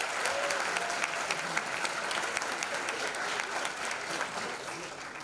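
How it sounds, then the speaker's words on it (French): Audience at a university eloquence contest final applauds steadily for several seconds, a dense, even patter of many hands filling the hall with no voices over it. "On peut l'applaudir."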